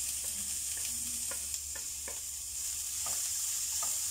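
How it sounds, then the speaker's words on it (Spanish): Chopped onion, ají pepper and tomato fry in a pan under a steady hiss of sizzling. Soft, scattered stirring taps sound close by, with no talking. "voy a colocar también la cebollita, una cebolla picadita, un ají picadito y mi tomatito picadito también."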